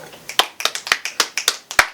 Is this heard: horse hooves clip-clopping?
no